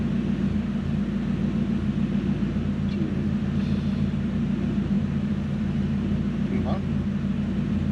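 A Toyota Celsior / Lexus LS400 V8 sits at a steady, low idle, a constant rumbling drone with a hint of fault, with people talking nearby over the engine.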